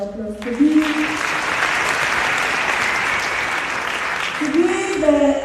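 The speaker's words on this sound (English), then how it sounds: "I think they deserve a round of applause" Sustained, even applause from a large audience at an honorary doctorate conferment ceremony, rising after a speaker's voice and fading as the speaker resumes.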